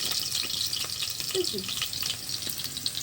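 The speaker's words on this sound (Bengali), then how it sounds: "এখন আমরা আলুটাকে ভেজে নিচ্ছি" Potatoes fry in hot oil in a wok for vegetable khichuri, a continuous bright sizzle with a few faint clinks, and no voice over it.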